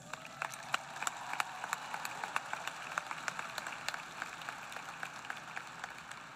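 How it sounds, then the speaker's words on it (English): A crowd at the Clackamas High School 2021 graduation ceremony claps for the graduates, a steady patter of scattered hand claps. It sounds faint and distant, as if heard from far back or outdoors. "Let's give a round of applause to all of our graduates."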